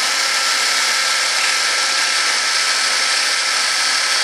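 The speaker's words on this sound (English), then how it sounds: "drill through the side a little bit" A power drill bores into a model RC jet B-1 bomber, giving a steady, loud, unbroken high whir close by.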